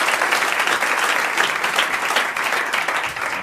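A French television studio audience in 1992 breaks into loud, continuous applause, a close, dense clatter of many hands that holds steady for several seconds.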